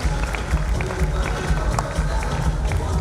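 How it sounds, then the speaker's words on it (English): At a merit award ceremony, an indoor crowd applauds a prince with steady, dense clapping and a low murmur underneath, held at an even level. "Please a round of applause for the Prince in the house."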